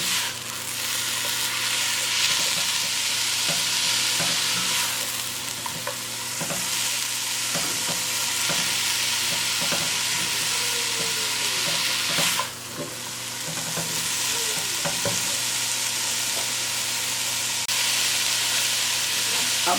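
Almonds and raisins frying with grated bottle gourd for kheer, a continuous close sizzle with regular spoon scrapes and stirring strokes against the pan, with no talk.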